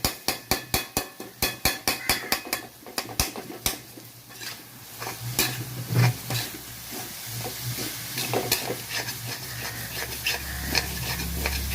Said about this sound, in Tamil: கொத்தி விட்டு கிண்டிக்கிட்டே இருக்கணும்